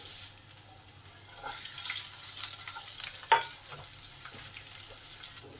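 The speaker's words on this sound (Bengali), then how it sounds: "এই রসুনগুলোকে একটু লাল লাল করে ভেজে নেব" Garlic and green chillies frying in oil for a jute leaf dish, a soft steady sizzle with scattered stirring scrapes and one sharper knock, heard close with no speech.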